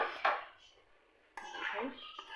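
Potatoes being added to keema frying in a pan, with a couple of clinks and scrapes of a utensil against the cookware separated by a quiet gap, close and fairly soft.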